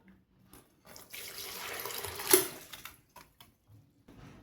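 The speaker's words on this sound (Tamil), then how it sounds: "அரிசியில் உள்ள தண்ணியை வடிச்சுக்கலாம்." Water drains off soaked raw rice in a kitchen, a steady running splash like a tap into a sink, rising for a couple of seconds with one sharp clink, then fading to brief drips.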